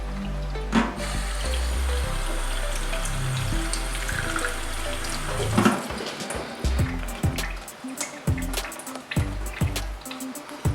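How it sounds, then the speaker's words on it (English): Tap water runs into a sink while fresh chhena curds are rinsed to remove lemon flavor, a steady splashing stream that later breaks into irregular drips and splatters as the flow is handled, with no talking. "Now I'll wash it with water"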